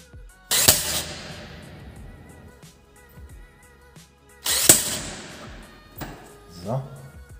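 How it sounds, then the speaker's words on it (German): A power tool tightens a nut on a scooter variator, giving two loud close whirring bursts with quieter metallic handling and clinks between them. "dann schrauben wir das jetzt mal fest"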